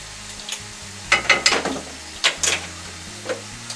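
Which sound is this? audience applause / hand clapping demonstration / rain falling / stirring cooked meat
stirring cooked meat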